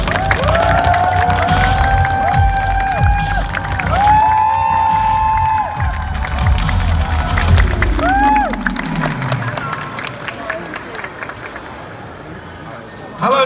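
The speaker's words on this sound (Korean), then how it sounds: "네, 박수로 맞아주세요." A convention hall audience at a comic-con panel in Seoul cheers and applauds loudly, dense clapping mixed with excited shouts and whoops over music that rises and swells, then gradually settles.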